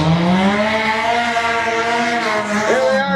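Demolition derby cars roar down the backstretch of a Ludington, Michigan track, a loud continuous engine drone with rising and falling harmonics as they pass close by, with no talk over it.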